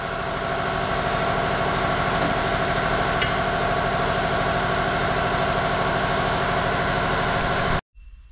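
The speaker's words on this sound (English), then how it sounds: "Compressor's done filling." Air compressor running steadily while filling, a loud continuous motor drone with a rhythmic pulsing chug that cuts off abruptly near the end.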